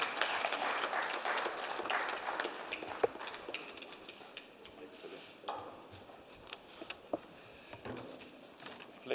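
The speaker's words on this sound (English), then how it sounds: "Can we give him a round of applause" An audience at a government open-week event claps for a keynote speaker, scattered irregular hand claps that thin out and fade, with a voice briefly heard beneath.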